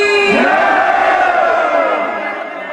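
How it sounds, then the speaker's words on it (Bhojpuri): A crowd shouts a loud, sustained devotional jaikara chant to Kalika Maiya, the voices rising sharply and then holding a long ringing cry. "हाँ चलिए जोरदार जयकारा लगाना है"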